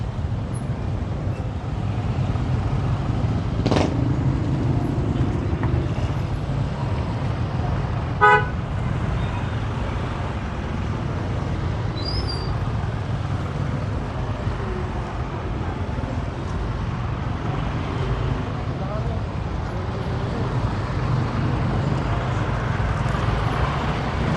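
Busy road traffic near Maga Market in Pasig, with a constant rumble of engines and wind, and a few short car horn toots standing out, one early and one broken stuttering honk midway.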